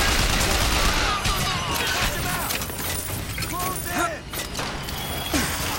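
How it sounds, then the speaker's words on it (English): Gunfire in the video game BioShock Infinite's Clash in the Clouds arena, dense bursts of shots and clattering impacts running continuously at high volume, mixed with game effects and someone talking over it. "Shooting here."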